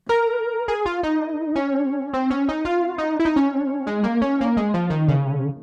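Clean Logic Pro 11 Modern Wave synth lead in a gospel style plays a quick melodic run of plucked notes with slight vibrato, steady and up front with nothing else underneath.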